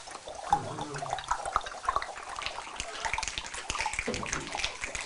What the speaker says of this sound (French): Quelques gouttes commencent à résonner dans les flaques.